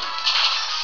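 The Spark attack effect from the video game Pokemon Platinum gives a short, loud crackling electric zap with a bright burst in the middle, lasting under a second.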